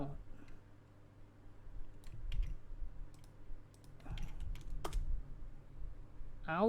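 Someone types on a computer keyboard in short bursts of quiet clicks and clacks while someone talks intermittently nearby.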